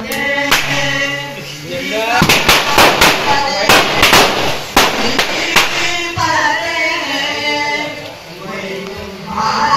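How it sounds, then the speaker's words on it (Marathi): Sharp firecracker bangs burst in a rapid irregular cluster over a steady background, with voices talking and an outdoor night ambience during Ganesh festival celebrations in Konkan, India. "रात्रीचे फटाके लावतोय हे बघा"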